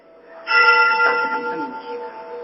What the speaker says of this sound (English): I also hear temple bells, so this could have taken place during a ceremony